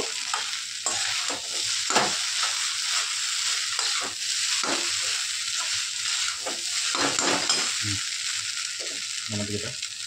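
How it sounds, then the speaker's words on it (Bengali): Egg chicken chowmein, Hakka-style noodles, sizzles loudly in a hot pan while being stirred, with repeated scraping strokes over a constant frying hiss. "আর 2-3 মিনিট নাড়াবো, নাড়িয়ে এবার নামিয়ে নেবো।"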